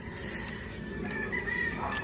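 Chickens at a poultry market cluck and crow over a steady background din, the calls fairly close and overlapping for a couple of seconds without talk.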